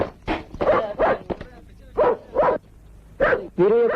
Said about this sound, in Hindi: इनके पीछे कुत्ते भौंकते रहते हैं।